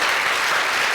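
Dense, steady audience applause fills the room at a celebration event for a 21st season, loud and continuous throughout with no pauses.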